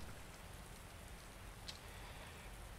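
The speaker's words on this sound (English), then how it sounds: "Oh, look at those rain cinematics." Steady rain falling in the Resident Evil 2 video game, a dense even hiss of drops that fills the whole clip with no voices, constant and moderately loud.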